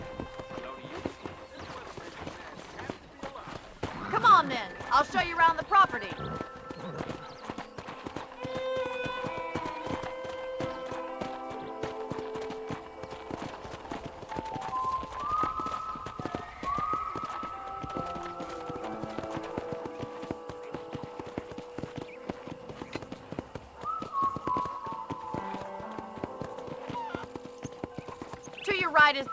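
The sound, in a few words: horse hooves, from video game Red Dead Redemption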